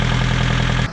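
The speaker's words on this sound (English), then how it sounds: "Just having a play with it now, I put it into gear. You can hear the revs pick up" A boat's inboard engine shifted into gear on a mooring, its revs lifting into a steady, loud, vibrating drone with rhythmic knocking, then cutting off abruptly near the end.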